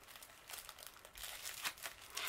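Foil gift wrap printed with gold hearts and glitter crinkles close up in repeated soft, crackling bursts that keep coming in quick succession.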